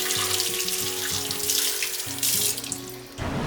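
Tap water runs steadily into a sink as basil leaves are washed, a close hissing splash with shifting tones as the leaves are moved, then the flow abruptly changes near the end.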